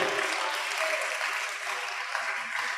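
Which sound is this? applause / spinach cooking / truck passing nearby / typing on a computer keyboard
applause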